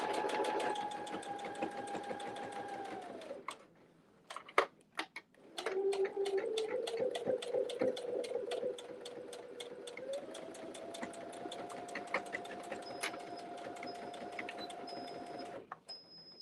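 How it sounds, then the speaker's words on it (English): Steady, close whirring of a sewing machine top stitching fabric card slots, stopping briefly around the middle with sharp clicks, then running again with shifting speed. "then we'll top stitch at 1/8 on these card slots"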